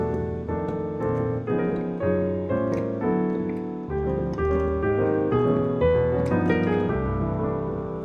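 Solo piano plays a lively jazz line with quick chord changes, bright and steady throughout.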